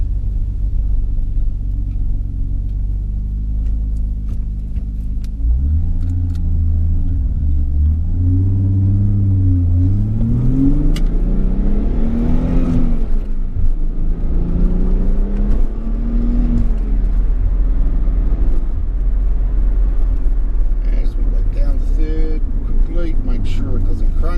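1991 Nissan Fairlady Z 300ZX twin turbo (GCZ32) accelerating through the gears on a test drive in Japan, a steady idle rumble rising into loud climbing engine notes broken by several gear changes, heard from inside the cabin.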